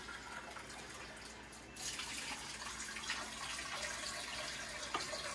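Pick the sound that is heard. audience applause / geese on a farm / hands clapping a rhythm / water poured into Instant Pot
water poured into Instant Pot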